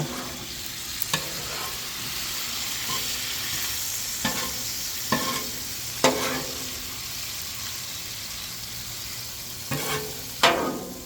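Steak bites sizzle steadily in a Blue Moon lemon-honey glaze reducing in a pan, a continuous frying hiss broken by occasional scraping stirs and clanks of the utensil.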